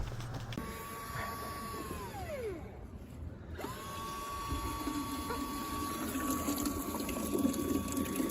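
A chicken waterer fills with water to a steady mechanical whine that drops away, pauses briefly and starts again, with a rushing, splashing flow underneath.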